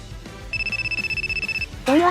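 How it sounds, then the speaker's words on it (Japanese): A telephone rings with a rapid, trilling electronic bell pattern lasting about a second, close and clear over soft background music, followed by a short rising tone. "電話が鳴ってるよ、トレッチ。"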